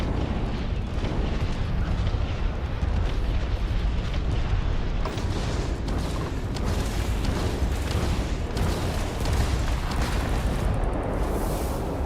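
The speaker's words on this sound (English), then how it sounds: "let's send some rockets your way" Rocket blasts in the video game Space Dragon, a dense, continuous wall of rumbling booms and bursts that fills the whole stretch at steady loudness, with no clear gaps between impacts.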